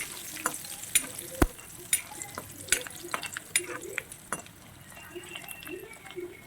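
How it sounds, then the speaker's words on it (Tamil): Salted dried fish (karuvadu) fries in a pan, a soft sizzle punctuated by irregular sharp pops and spatula scrapes, close and fairly quiet with no talking. "இப்போ நான் வந்து இதை நல்லா ஃப்ரை பண்ணி எடுத்துக்கிறேன்."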